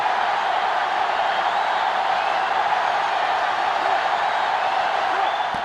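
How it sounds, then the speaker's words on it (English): Dense, steady stadium crowd roar from the NCAA 05 football video game during a Clemson vs FSU matchup, a continuous wash of noise at constant loudness with no clear peaks, heard without speech. "The defense looking to make this crowd a factor."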